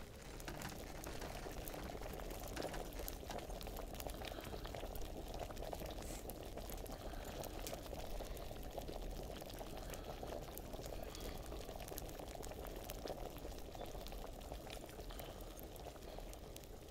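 A potion bubbling and boiling in the video game Kingdom Come: Deliverance, a steady dense simmer that holds at an even level throughout, with no voices over it.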